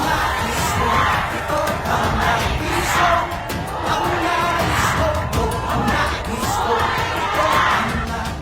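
A large crowd at a Philippine election campaign event shouts a slogan together in loud, rhythmic bursts, a continuous roar of many voices chanting with cheering mixed in.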